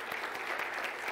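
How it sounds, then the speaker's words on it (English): Brief burst of church congregation applause for mothers during a Mother's Day worship service, many hands clapping in a dense, even patter. "Let's give a round of applause for all the moms today."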